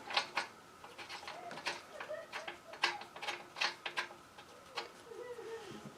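A ratchet tightens a part on a Powermate tiller cultivator, giving a close run of quick, irregular clicking strokes with small metallic rattles and brief pauses between them.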